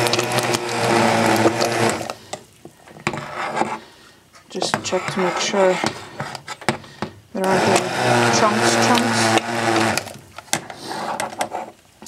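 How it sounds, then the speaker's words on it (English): An immersion blender purees homemade tomato soup in bursts, a whirring motor starting and stopping between short pauses while a person talks over and between the runs. "Love my immersion blender."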